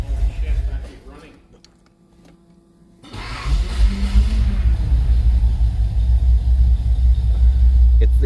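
A 1981 Datsun 280ZX, parked nine years over electrical faults, cranks and catches, its engine then idling in a steady loud rumble that continues alone after a brief quiet pause.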